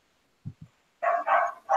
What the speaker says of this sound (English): that dog sounds pissed off